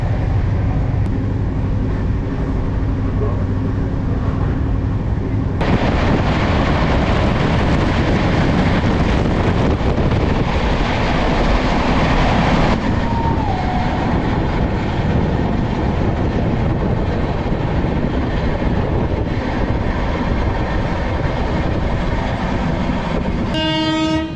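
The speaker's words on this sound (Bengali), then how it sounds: "ট্রেন এখন চলেছে উড়িষ্যার মধ্যে দিয়ে।" Inside the Howrah Duronto Express (12246, SMVT Bengaluru to Howrah) running through Odisha, a loud, continuous rolling rumble with steady rail clatter and a distant horn fills the whole stretch, with no talk.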